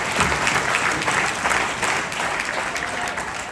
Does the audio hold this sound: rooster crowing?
no